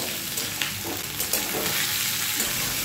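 Half-boiled potatoes fry in hot oil for a Bengali potato curry, giving a steady, close hiss of sizzling with a few soft clicks of stirring, heard alone without talk.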